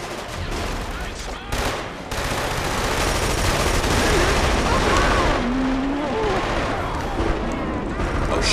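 Dense, sustained video game gunfire from Killzone 2, rapid automatic bursts and explosions crowding the foreground with almost no letup, while a voice speaks briefly under the din.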